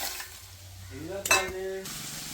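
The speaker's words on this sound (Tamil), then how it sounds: "பெரிய வெங்காயத்தை போட்டாச்சு, வதங்க." Large onions sauté in a pan for mutton biryani, a soft steady sizzle under a brief tonal hum, with one sharp clink of a utensil against the pan midway.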